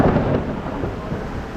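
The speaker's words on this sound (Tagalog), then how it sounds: "Kumukulog, kumikilat." Thunder rumbles in a low, heavy roll during a rainstorm, with a steady hiss of rain underneath and no voices.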